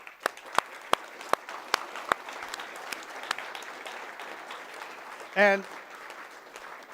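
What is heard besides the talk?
audience applause at conference opening ceremony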